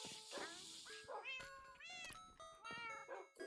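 A cat in the game Minecraft meows several times in quick succession over a few seconds. The short, rising and falling meows sound close and clear.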